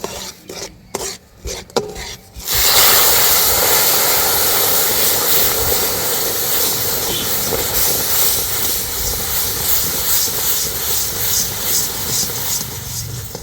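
Milk poured into hot sugar caramel in a steel bowl, with a few clinks, then a sudden loud, sustained hiss and bubbling sizzle that stays strong to the end.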